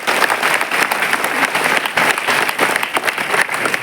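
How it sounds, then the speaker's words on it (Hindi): A seminar audience at Awadh University in Ayodhya bursts into dense, steady applause for Jasveer Singh, loud and close, with many hands clapping continuously throughout. "आदरणीय श्री जसवीर सिंह जी, तालियां जोड़ना चाहेंगे उनके लिए"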